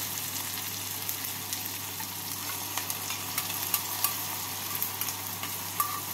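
Onion and tomato with mixed spices frying in a pan, a soft continuous sizzle with occasional light clicks of a spatula, fairly quiet and even throughout.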